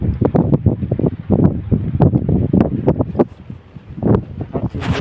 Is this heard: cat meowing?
no